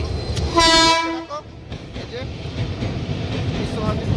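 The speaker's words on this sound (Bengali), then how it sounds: "চারটে ট্রেনে চাললাম" A passenger train travelling toward Bandel sounds a loud horn blast near the start, then settles into a steady, close rumble of wheels and carriages, with brief faint horn tones later on.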